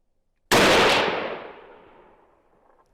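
A single loud .408 caliber rifle shot strikes a hardened steel anvil, a sharp sudden blast that rings and decays over about two seconds, followed by a brief second impact.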